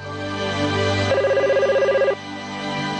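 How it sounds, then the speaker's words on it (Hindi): A telephone ringing in a Hindi-dubbed cartoon: a rapid trilling electronic ring lasting about a second over a steady background hum, fairly clear and alone without talk. "जरूर आपके बॉस का फोन होगा"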